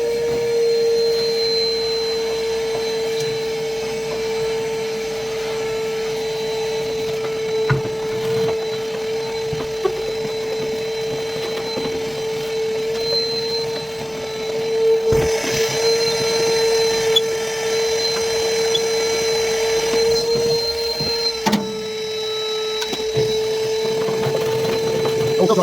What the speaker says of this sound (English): I'm going to suck out everything in this pot.